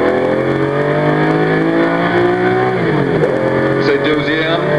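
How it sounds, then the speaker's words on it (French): A 12-cylinder Ford GT race car at Le Mans in 1965 holds a loud, steady engine drone from the cockpit. The pitch climbs and then drops through a gear change as the revs rise again. "Vous allez connaître le bruit du 12 cylindres qui a enlevé la course."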